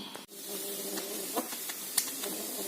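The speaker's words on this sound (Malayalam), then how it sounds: "കുക്കറിൽ സ്റ്റീം ആയി വന്നു തുടങ്ങി" A pressure cooker on the stove, holding rose apples for squash, releases steam with no weight on yet: a faint, steady hiss that continues without a break.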